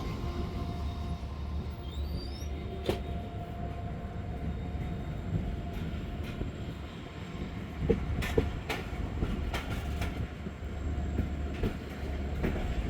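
A passenger train runs on rails between Rohri and Hyderabad, with a continuous rumbling carriage noise, scattered clicks and knocks from the wheels and faint squeals, heard from inside at moderate level.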